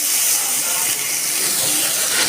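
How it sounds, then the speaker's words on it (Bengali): Water splashed into hot oil with cumin and turmeric hisses loudly and steadily, a dense close-up sizzle that fills the whole moment with no voices over it. "তেলের মধ্যে আমি দিয়ে দিচ্ছি একটু হলুদ অল্প একটু জল দিয়ে দিচ্ছি"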